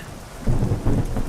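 A low rumble of thunder rolls in over steady rain, deep and booming in two swells, in the video game Euro Truck Simulator 2.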